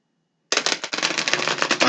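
Gilded Tarot cards are shuffled close by after a moment of silence, giving a steady, dense riffling flutter that runs on without a break.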